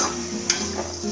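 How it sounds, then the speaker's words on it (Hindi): Flattened rice (chura) dry-roasting in a home kitchen pan, giving a soft continuous sizzle and rustle with a few light clicks as it is stirred, low and steady throughout. "ये चूड़ा मैं भून रही हूँ बच्चों के लिए थोड़ा सा"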